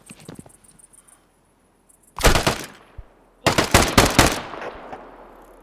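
Another player fires on the character in the Deadside survival shooter: a faint early rattle, then two loud bursts of rapid automatic gunfire with a short pause between, nearby and sharp.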